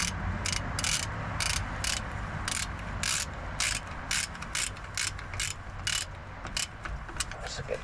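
A hand ratchet clicks in quick repeated bursts while tightening rear brake caliper bolts on a 2000 Ford F-350 Super Duty 7.3L dually, with steady mechanical background noise underneath.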